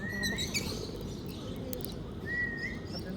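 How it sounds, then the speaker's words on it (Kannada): Small birds chirp during hand feeding, a few short high tweets and trills near the start and again toward the end over a soft, rustling background. "ಬರ್ಡ್ ಫೀಡಿಂಗ್ ಮಾಡಿದ್ವಿ."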